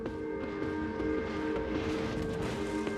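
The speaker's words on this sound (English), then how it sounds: "Sound the horns!" Warship horns blare in the World of Warships naval combat game, a sustained, steady tonal blast of layered low horn notes that holds throughout over a dense rumbling game background.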